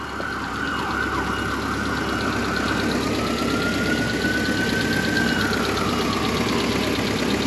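A 1986 Alfa Romeo Spider Graduate engine idles with a steady hum throughout, close and even, while a fire engine siren wails in the background and slowly fades.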